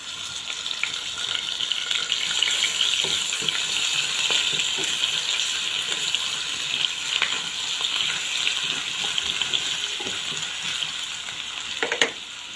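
Steady sizzle of chicken frying with ginger and garlic runs throughout, with scattered clicks and scrapes of stirring in a pan, close by and with no voices.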